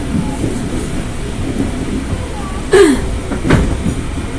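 A Jakarta commuter train slowing to a stop before Manggarai station, heard from inside as a loud steady rumble with a short squeal and a couple of clanks near the end.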